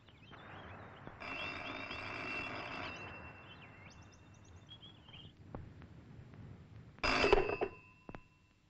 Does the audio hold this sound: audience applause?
no